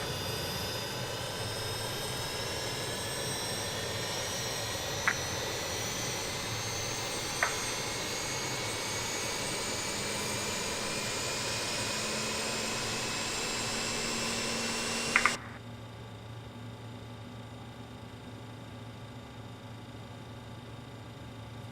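Steady roar and whine of an RJ airliner's jet engine running in Microsoft Flight Simulator, with a few faint clicks and a sharp drop in level near the end as the sound changes, no voices.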